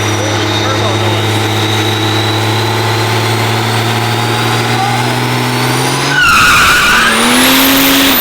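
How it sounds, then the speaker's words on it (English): A truck engine revs with steady turbo whine and tonal engine drone, then a sharp burst of turbo spool and rush near the end, loud and close, with speech over it. "Turbo noise."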